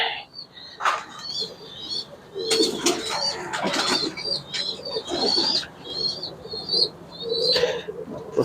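A young pigeon chick in a loft, giving repeated high thin squeaky calls in short bursts, close by, with some rustling and flapping-like noises between them.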